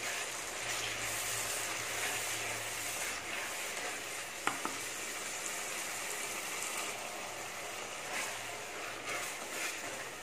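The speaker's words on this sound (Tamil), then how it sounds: "சேர்த்து அதையும் சேர்த்து கொஞ்சம் நேரம் வதக்கிடலாம்" Onions and tomatoes sautéing in a pan for a river fish curry, a steady close sizzle with occasional stirring scrapes and a couple of sharp utensil clicks throughout.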